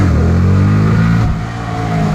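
A Honda Grom motorcycle engine revs hard and close on the throttle, a loud sustained drone that dips briefly midway and then climbs again.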